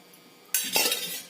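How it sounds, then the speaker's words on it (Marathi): A kadhai set back onto a gas stove lands with a sudden metallic clatter and a brief ringing scrape, loud and close against a quiet kitchen background. "आता गॅसवरती परत कढई ठेवायची"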